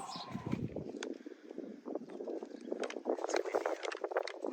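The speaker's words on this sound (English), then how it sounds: "Everyone knows it's windy." Gusty wind at Monument Valley buffets the microphone with rough, fluctuating roaring bursts, loud and close, with bits of movement noise underneath.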